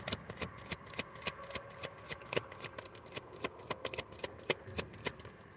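Tarot cards are riffled and shuffled in quick repeated bursts of crisp flapping and snapping, close and fairly quiet, with no talking.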